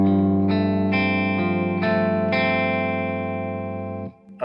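A loud electric guitar with a clean tone, recorded in a DAW, lets full, fat chords bloom and sustain with a few fresh attacks layered in before the sound cuts off.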